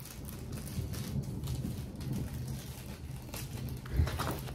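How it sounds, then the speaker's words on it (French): Soft thunder grumbles during rain, low and faint, with rumbles rising and falling and one brief, stronger thump near the end. "Entendez-vous le tonnerre?"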